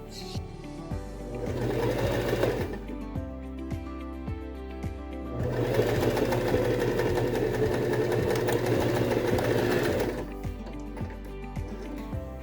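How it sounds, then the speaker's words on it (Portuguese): A sewing machine runs a seam through fabric in two long steady bursts with a short pause between, loud and close, making a fast mechanical whirring. "Nós vamos passar uma costura na máquina aqui."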